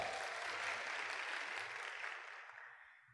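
Audience applause at a sales and networking seminar: a dense, steady burst of clapping that swells for a couple of seconds, then gradually thins and fades out, with no voices over it.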